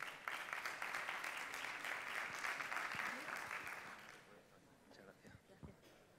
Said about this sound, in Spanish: Un aplauso para los valientes.